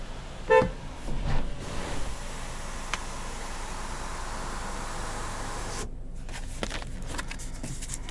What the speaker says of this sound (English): The horn for those curious.